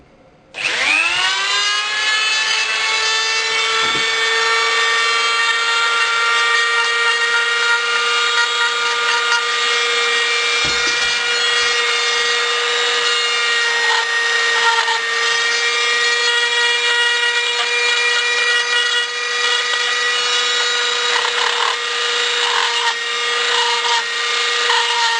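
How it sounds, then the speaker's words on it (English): A power drill spins up sharply and holds a steady high whine for the whole stretch while countersinking a drilled hole from the other side, close and loud, with slight scraping of the cutter against the material. "what I'm going to do now is countersink it from the other side,"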